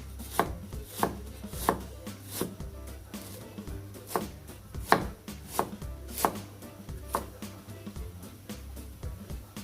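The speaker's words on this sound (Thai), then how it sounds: "หั่นกระชายหั่นหัวหอมนะคะ" Rapid knife chopping of fingerroot and shallots on a cutting board, sharp regular thuds in a steady rhythm, close and fairly loud with no talking.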